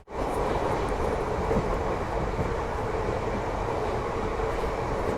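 A diesel train rumbles steadily along the rails on the Khagaria–Alauli line in Bihar, a constant loud roar with a faint rhythmic rattle throughout.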